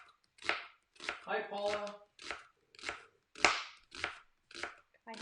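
Knife slicing onions thin on a cutting board during a kitchen cooking session, a steady series of about nine close, crisp chops, with brief speech over the cutting.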